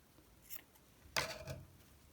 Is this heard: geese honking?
no